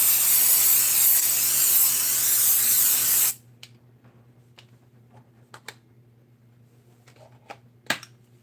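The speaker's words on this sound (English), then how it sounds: "And I'm going to spray this." A loud, steady hiss of an aerosol spray can sprayed onto a piece of batting for about three seconds, then quiet with a few light taps and clicks.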